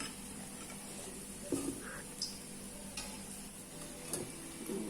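Tempeh mendoan frying in hot oil, a steady close sizzle with occasional soft clicks and stirring bumps, moderately quiet and without speech.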